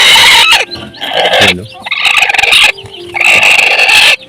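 Hens and chicks cluck and squawk loudly at close range in a poultry pen, in a series of busy bursts separated by short pauses, with a brief spoken word in between.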